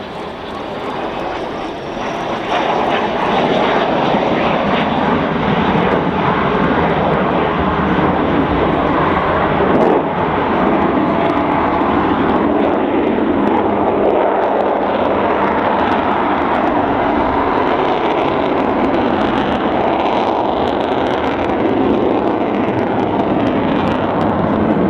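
An Avro Vulcan bomber, airframe 558, roars overhead at an air display in Southport. The engine sound is a loud, continuous jet rumble that swells within the first few seconds and then holds steady without pause.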